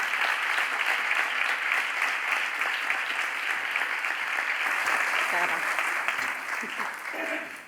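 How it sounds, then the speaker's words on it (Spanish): Sustained, loud applause from a large audience at the opening conference of the Málaga Carnival, steady clapping throughout that begins to thin out near the end. "Si sois tan amables, damos un fuerte aplauso."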